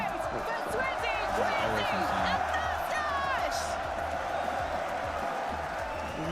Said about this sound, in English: so much cheering in this audience, and I know they are just getting warmed up